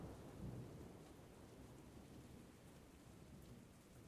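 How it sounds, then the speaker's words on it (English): Steady rain drums on the outside of a car, a constant dense patter with a low rumble underneath and no voices. "It's the sound of rain hitting the outside of the car."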